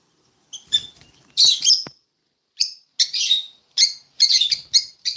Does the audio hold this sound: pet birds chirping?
yes